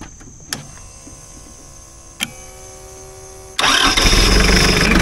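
A 2.4 liter diesel engine cranking on a jump starter, with two brief clicks before a loud catch at about three and a half seconds into a steady, rough idle.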